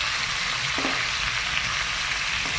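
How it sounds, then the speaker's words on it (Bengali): Rohu fish fries in a pan in a village kitchen, giving off a steady, close, loud hiss of sizzling oil that goes on without a break and with no voices. "ওদিকে মাছটা ভাজতে দিয়ে চলে এসেছি।"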